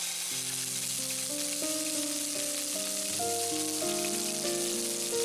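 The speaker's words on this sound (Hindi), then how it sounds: "तेल गर्म हो चुका है, अब हम इसमें 1 चम्मच अदरक डालेंगे।" Ginger fries in hot oil with a steady, close, bright sizzle that runs throughout, under background music.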